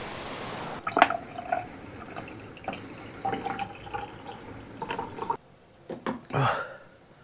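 Cold water from a Highland burn drips and trickles through a new water filter at a remote Scottish bothy, a close, quiet run of irregular drops and small splashes with brief pauses between them.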